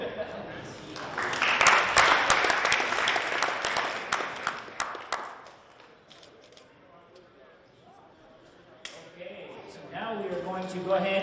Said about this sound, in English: So big round of applause for you guys, the families, for supporting your students